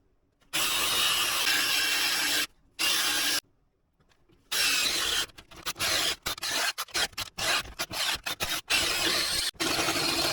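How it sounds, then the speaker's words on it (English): A power drill bores a hole through a steel frame on an old rusty Jeep Cherokee XJ, running loud and close in long grinding bursts, then in rapid stuttering pulses as the trigger is feathered, with no talk. "I made a mark right about there is where I need to drill a hole"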